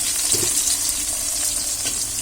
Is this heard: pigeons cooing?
no